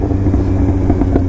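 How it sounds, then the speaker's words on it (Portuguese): A Kawasaki Z750 motorcycle engine hums steadily while riding to warm up, a close, continuous low rumble mixed with wind noise across the brief stretch, with no talking. "Tô dando uma volta pra esquentar a moto e tal, e pra gravar esse vídeo."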